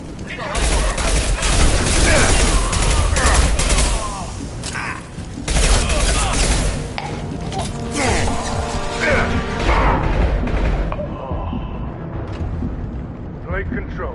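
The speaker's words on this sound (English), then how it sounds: "Blue Suns and Vorcha shooting anything that moves." Gunfire from Blue Suns mercenaries and Vorcha in Mass Effect 2, dense bursts of shots and crashes filling the scene loudly and continuously, with a brief lull around the middle before the barrage resumes.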